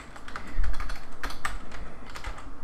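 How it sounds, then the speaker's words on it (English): Rapid typing on a computer keyboard, a close, quick run of uneven clicky keystrokes with no talk. "I'm going to type in"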